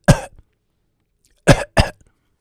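One sharp cough, a pause, then two more coughs in quick succession, close and loud against silence.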